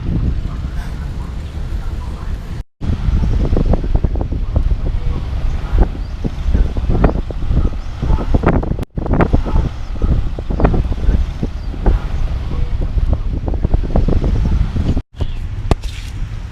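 Strong wind buffets the microphone in loud, continuous gusts, with a low rumble underneath and brief dropouts.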